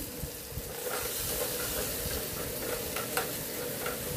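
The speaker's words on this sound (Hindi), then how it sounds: "इसमें मैं डालूँगी मस्टर्ड ऑयल और जीरा डाल दिया है मैंने, साथ साथ प्याज डाल दिए।" Onions and cumin frying in mustard oil in a home kitchen pan, with a steady close sizzle and occasional stirring scrapes running throughout, no talking.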